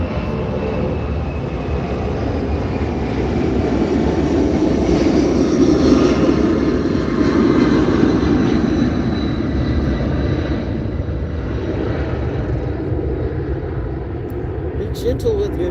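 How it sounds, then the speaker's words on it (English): A fixed-wing airplane passes overhead outdoors in the countryside, a loud, steady engine drone that swells and slowly fades over about fifteen seconds, with voices talking quietly beneath it. "Hear the plane."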